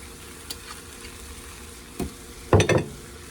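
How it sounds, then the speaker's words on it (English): Cabbage cooks in extra virgin olive oil in a pan, giving a faint, low sizzle punctuated by a few short spatters and stirring clatters near the end. "I like my cabbage fried. I'm gonna add some extra virgin olive oil at this point."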